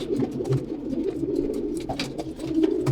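Low, soft coos from a pair of racing pigeons repeat close by in a gentle rolling rhythm, with faint background rustling.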